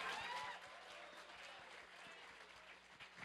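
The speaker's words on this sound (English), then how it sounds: "Round of applause for that guy." Live convention audience applauds for a few seconds, a broad wash of clapping and crowd noise that starts strongest and gradually eases, heard from within the room.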